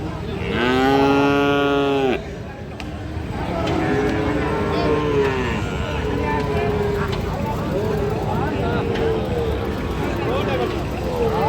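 A Sahiwal bull calf moos loudly and long near the start at a cattle market, followed by several shorter, fainter lowing calls amid a busy crowd of voices and outdoor bustle.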